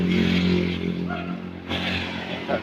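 A tricycle engine with a loud exhaust rumbles with a rough, rattling note, idling and surging slightly, close by.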